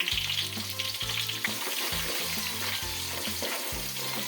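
Finely chopped onions fry in a pan for a home-style chicken curry, with a continuous close sizzle and repeated low thumps of stirring.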